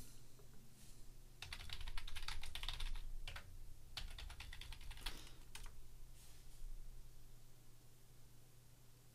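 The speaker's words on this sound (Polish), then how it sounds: "Wpisaliśmy hasło QWERTY i zadziałało." Close keystrokes on a computer keyboard entering a password, coming in several quick bursts of clicky taps separated by short pauses, alone in a quiet room.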